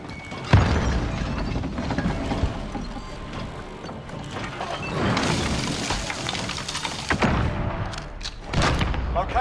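A frag grenade explosion in Call of Duty: Modern Warfare sounds as a sudden heavy boom near the start, followed by rumbling blasts and gunfire-like bursts through a dense, loud battle mix, with voices faintly present.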